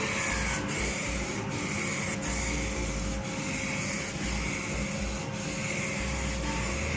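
Aerosol can of Transtar 2-in-1 red oxide primer sprayed in a steady hiss as a second coat on a car quarter panel repair, with a few faint rattling ticks from shaking.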